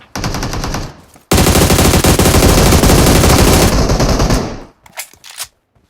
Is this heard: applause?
no